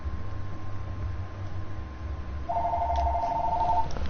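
A phone rings in Diablo 3: Reaper of Souls with a steady electronic trill partway through, close and fairly loud over a low background hum.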